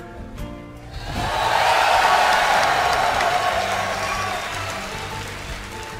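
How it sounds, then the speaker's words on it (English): A large esports audience at BlizzCon 2011 cheers for a StarCraft II match, the roar of the crowd swelling after a second and holding loud and steady, then easing slightly toward the end. "give a cheer"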